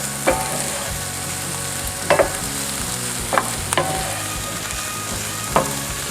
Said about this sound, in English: Now I'm going to add the garlic.